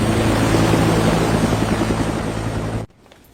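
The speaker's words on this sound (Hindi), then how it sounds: "हेलीकॉप्टर उड़ान भरने ही वाला है।" A helicopter about to take off gives a loud, steady rotor and engine drone with a rhythmic chop, close by, then cuts off abruptly near the end, leaving quiet.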